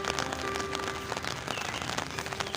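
Rain falls in a scenic hilly area, a dense patter of drops striking surfaces with irregular louder splats, steady and close throughout.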